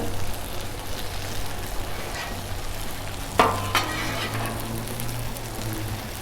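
Potatoes fry on a Blackstone griddle with a steady close sizzle, interrupted by a couple of sharp scraping stirs from a spatula partway through; no talking.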